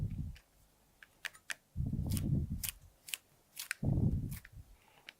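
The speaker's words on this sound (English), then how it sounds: "So on our peppers, I'm just gonna dice them, just like this." A kitchen knife dices peppers on a cutting board in a cooking-show kitchen, with quick crisp chops in short bursts and thumps against the board between quieter pauses.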